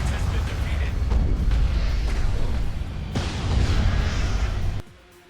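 The Hierarchy faction's super weapon fires in the strategy game Universe at War, a loud, continuous rumbling barrage of booms and blasts that swells midway and then cuts off abruptly into near silence.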